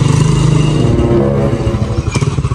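A motorcycle engine runs nearby with a loud, rough, steady chug, holding a constant idle-like rumble before a short burst of clatter near the end.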